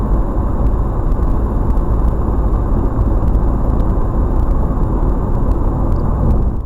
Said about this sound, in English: only you need to hear the rustle of the road there